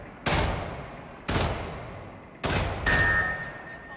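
Gunfire in the video game Hitman 3: four loud, close shots, roughly one a second, each with a booming tail, and a faint electronic tone behind the last.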